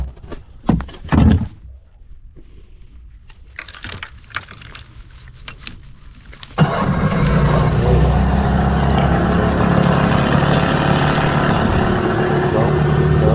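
A Mercury 25hp two-stroke outboard on a small boat cranks after a starter solenoid replacement, a few clicks and thunks, then catches abruptly and runs at a loud, steady drone that continues to the end.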